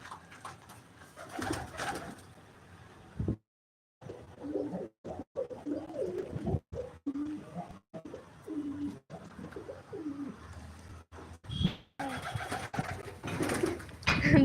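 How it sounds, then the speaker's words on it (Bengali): Pigeons coo repeatedly inside a rural pigeon house kept with white pigeons and other breeds, a soft, rhythmic low cooing that carries through most of the stretch, broken by short silent gaps, with louder rustling and noise at the start and end. "কত পায়রা"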